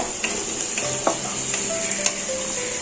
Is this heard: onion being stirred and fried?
yes